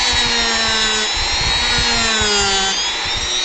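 Loud, continuous rough sanding grinds on steadily with a high whine, the pitch dipping briefly before resuming, with no talking.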